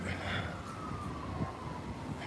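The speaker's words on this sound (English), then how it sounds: "now I'm hearing sirens" A siren wails at a distance, its slow falling tone carrying steadily over a dense outdoor city wash of traffic and crowd noise in Los Angeles.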